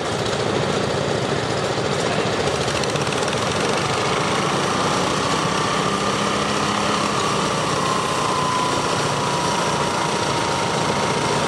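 A semi truck engine roars loud and steady under heavy load while dragging a stone boat at a fair pulling contest, a continuous high-revving drone with no talk.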